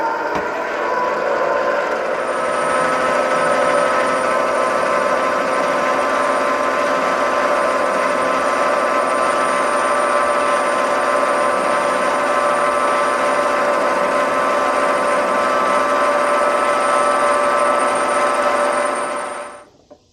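A Vevor mini lathe takes a light skim pass on Yamaha XT250 fork preload spacers, a steady close mechanical hum with faint tonal whine and ticking, holding evenly for about nineteen seconds before winding down.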